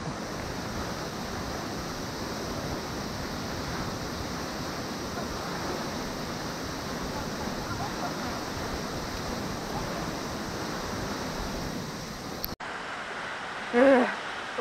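Steady broadband roar of a waterfall on a mountain trail in the Kansai hills, continuous and close, with a brief cut near the end followed by a faint voice.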